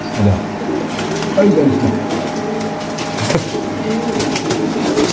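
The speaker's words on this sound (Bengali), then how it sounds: "দর্শক দেখেন আল্লাহর মতো কত সুন্দর কবুতর" Racer pigeons at a bird market coo softly and repeatedly, their low, throaty calls mixed into a busy, noisy background.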